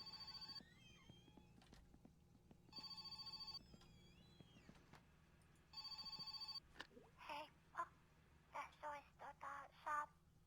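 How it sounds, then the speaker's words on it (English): In the Satsuma car-repair video game, a telephone rings in three repeated electronic bursts, followed by a run of short chirping tones, faint and steady against a low background hum. "so I suppose we better answer the phone."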